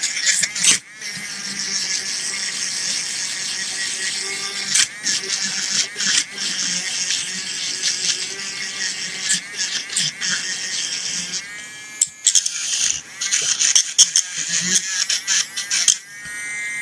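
Dremel rotary tool grinding rust off a handheld wire stripper, a continuous high-pitched buzzing whine that wavers and briefly cuts out as the tool touches and lifts from the metal, close and steady throughout.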